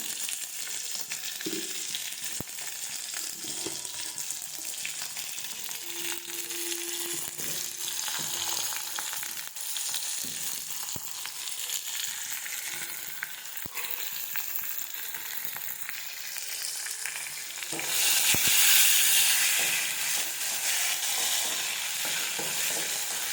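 Onions, green chilies and curry leaves sizzle steadily in hot oil as they are stirred in a pan for a potato egg gravy, with occasional spoon scrapes and a louder burst of frying near the end.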